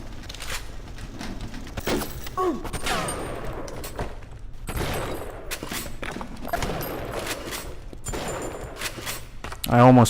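Gunshots from the video game Bioshock, several sharp reports scattered through a busy mix of in-game ambience, with some speech and a louder burst near the end.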